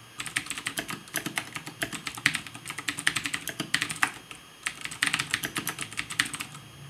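Computer keyboard typing while writing game code, rapid close clacking keystrokes in quick bursts with brief pauses, steady and alone without talk.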